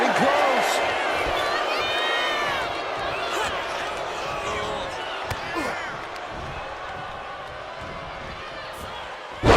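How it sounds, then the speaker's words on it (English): In WWE 2K25, a Russian leg sweep slams a wrestler down in an intergender match, a short thud heard under steady crowd cheering and a commentator talking. "Russian leg sweep."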